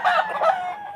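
Chickens at a Bulacan pet market, white hennie and grotto birds, give loud, close squawking calls that rise and fall in two overlapping bursts over about a second, with no talking.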